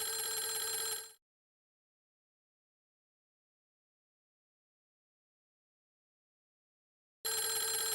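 Electronic phone ring from the horror game Clock Tower: The First Fear, a loud bright warbling tone heard in two bursts with a long stretch of silence between them, with no talk.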